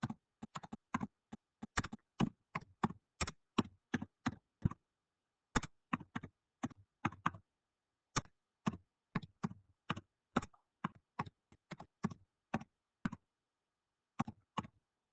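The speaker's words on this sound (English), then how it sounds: "I'll just type this here." Someone types on a computer keyboard in a quiet room, with soft, close key clicks in irregular bursts and short pauses between runs of keystrokes.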